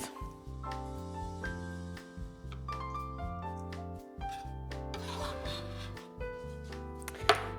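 A knife slicing a banana pepper into thin strips on a cutting board, heard as repeated scraping and rubbing strokes over a steady background tone, ending in one sharper knock.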